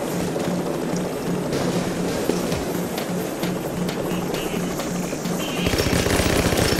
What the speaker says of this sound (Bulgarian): Това е SMG-то.